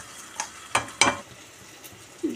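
Moong dal lentils frying in a pan until browned, with a few short scraping stirs over a faint, close sizzle and no talking.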